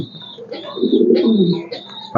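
Racing pigeons coo close by in soft, throaty, rolling phrases that rise and fall over a couple of seconds, with a brief faint human sound.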